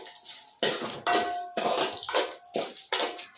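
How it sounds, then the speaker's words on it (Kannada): Curry leaves and chutney powder ingredients frying in a pan while being stirred, heard as bursts of scraping and clanking from a utensil against the pan. The bursts come in an irregular rhythm, separated by short gaps and a faint steady sizzle. "ಸೀದ್ ಹೋಗಕ್ಕೆ ಬಿಡಬಾರ್ದಷ್ಟೇ ನೋಡ್ಕೊಂತ ಫ್ರೈ ಮಾಡ್ಕೊಂತಿರ್ಬೇಕು ಎಲ್ಲದನ್ನು"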